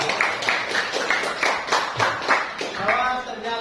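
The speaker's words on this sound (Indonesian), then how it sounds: "Nah, tepuk tangan untuk kamu." Hands clapping in a steady, quick rhythm of about a dozen sharp claps, moderately loud, with a voice speaking at the end.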